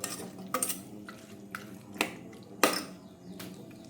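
A metal spatula scrapes and clinks against a pan while bitter mushroom curry is stir-fried, giving a few sharp, irregular taps over a low, quiet sizzle.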